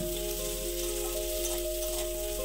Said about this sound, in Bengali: কড়াইতে আরেকটু সর্ষের তেল দিয়ে ভালো করে গরম করে এর মধ্যে দুটো মাঝারি সাইজের পেঁয়াজ কুচি দিয়ে দিলাম।